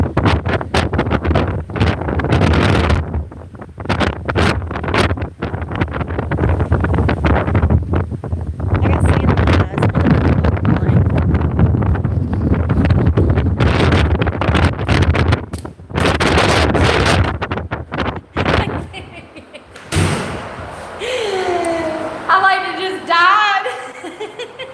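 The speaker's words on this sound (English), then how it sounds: "I bet that wind is 20 miles an hour" Strong wind gusts over a sandy beach, roaring hard and close against the microphone in heavy buffeting bursts, while people talk and laugh over it.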